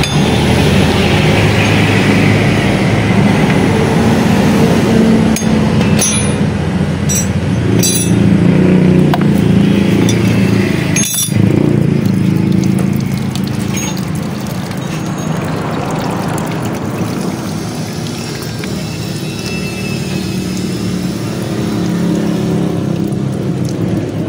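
Coolant draining steadily from the water pump of a Yamaha Sniper motorcycle, a continuous loud pouring trickle with a few light metallic clinks, close up throughout.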